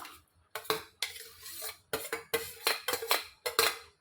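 Cooked rice for biryani knocked from a metal sieve into a cooking pot, a series of sharp metallic taps and clanks in uneven bursts, close and clear with no talk.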